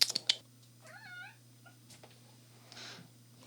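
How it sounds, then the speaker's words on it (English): A pet cat gives a soft, short meow indoors, faint and close, after a few sharp clicks, with quiet background hum. "Our cat is making an appearance."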